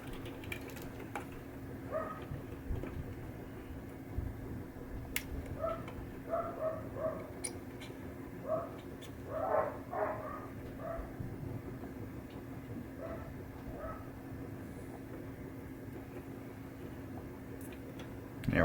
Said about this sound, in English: If you hear the barking